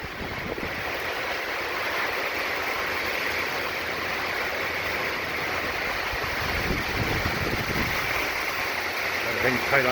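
Hurricane Delta soon after landfall brings a steady roar of wind and driving rain, a dense continuous rush with slight surges in loudness, and someone speaks briefly over it.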